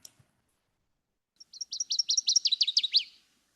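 Recorded call of a swamp bird of alder thickets and beaver ponds: a loud, bright series of about a dozen rapid chirpy notes, rising in intensity and then ending abruptly, alone against silence.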